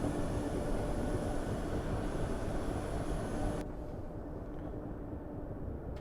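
An HST diesel train in Train Sim Classic on the South London network drones with a steady, rumbling engine and rolling noise, then the sound abruptly drops to a quieter, duller rumble partway through.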